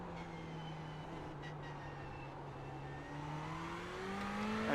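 A Ferrari 488 GT3 engine in iRacing at Tsukuba holds a steady, faint drone, then rises in pitch as the car accelerates, growing slightly louder toward the end with no talking.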